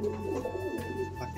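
A golden female pigeon of Pakistani line gives a low, soft coo close by over a faint steady hum, brief and quiet.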